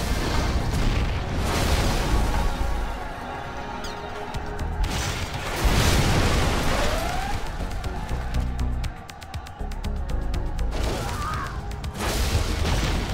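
Particle cannon strikes in Command & Conquer Generals, a series of heavy booming blasts every few seconds over the ongoing rumble of battle.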